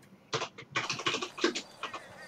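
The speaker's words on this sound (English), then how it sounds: "I'm typing things, but it's not showing what I'm typing." Quick bursts of computer keyboard typing, a cluster of close clicks and key taps in uneven rhythm, fairly quiet, during a FiveM roleplay game session.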